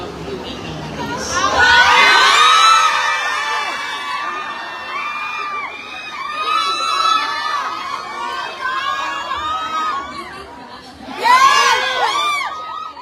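A large crowd of fans shouts, screams and cheers excitedly in sustained waves, dipping briefly before a fresh high-pitched burst of squealing near the end, loud and close.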